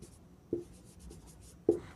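A marker or chalk writes a word on a classroom board, two short scratchy strokes standing out over faint soft scraping, close and quiet with no talking.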